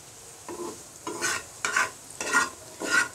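Koi fish frying in oil with coriander leaves is stirred in the pan, four or five evenly spaced scraping strokes over a faint sizzle, close and fairly quiet.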